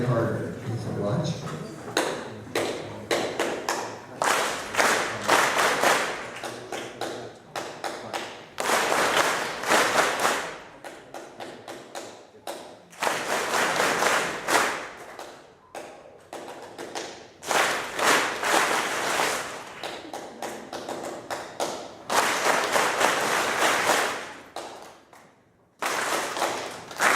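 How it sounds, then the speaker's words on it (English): Hands clap rhythmic patterns in a call-and-response game at an elementary school, a leader's bursts of sharp claps alternating with a group of children clapping back, mixed with talking between the rounds. "I'm going to clap a rhythm with my hands, and then when I point to you, you clap it back."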